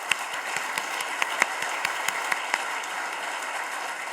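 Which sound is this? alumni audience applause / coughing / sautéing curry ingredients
alumni audience applause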